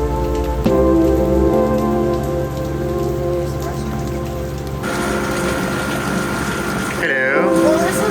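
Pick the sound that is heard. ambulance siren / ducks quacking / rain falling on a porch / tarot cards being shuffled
rain falling on a porch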